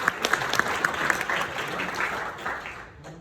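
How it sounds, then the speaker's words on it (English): Applause fills a masterclass session in Dubai, with a crowd clapping in a steady patter and a few sharper individual claps, fading down toward the end at moderate distance. "Give us a round of applause, please"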